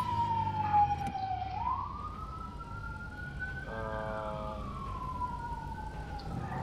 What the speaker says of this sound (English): So that was a real siren from outside of my house.